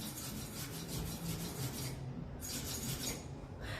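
Steady, raspy scrubbing of a wire brush or file on metal welds, continuous and close, with brief pauses between rhythmic strokes and no talking.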